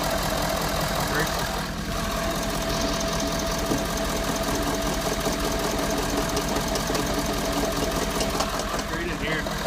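A 2012 Ford F250 with a 6.7L diesel engine idles close by with a steady rumble and a fast, even ticking knock running through it, with no break from start to finish.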